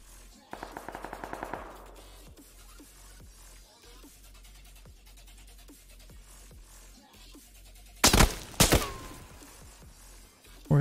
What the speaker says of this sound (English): Where are they shooting from up there?